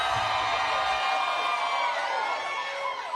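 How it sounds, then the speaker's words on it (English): A crowd cheers and whoops loudly in a steady roar from start to finish, many voices merging into a bright, continuous wall of sound. "And who are those people cheering?"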